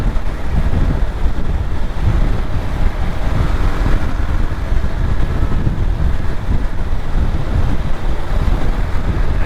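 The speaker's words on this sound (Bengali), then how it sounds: "বাতাসের ধাক্কা।" On a night motorbike ride from Mirsharai to Sitakunda, a strong wind blast from a passing bus buffets the bike, a loud, continuous roaring rumble of wind against the microphone.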